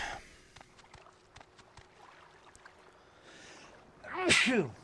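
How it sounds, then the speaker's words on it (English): Quiet outdoor background with faint clicks and rustles, then one sudden loud sneeze near the end. "Felt a sneeze coming on."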